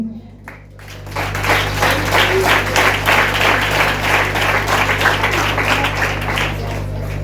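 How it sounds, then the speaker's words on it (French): Audience at a church anniversary celebration applauding a pastor as he comes forward, a steady, full burst of crowd clapping over a constant low electrical hum. "Je vous demande de l'applaudir pendant qu'il nous rejoint."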